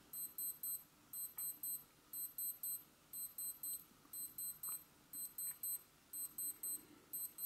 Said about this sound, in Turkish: Alarm sesi bu şekilde çalıyor.